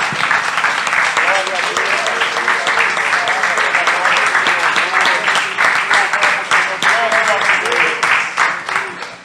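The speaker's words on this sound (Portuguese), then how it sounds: "Glorifica, bata a palma para Ele" Congregation in a church clapping hands together in worship, a dense sustained wall of applause with overlapping claps, a voice faintly audible beneath it.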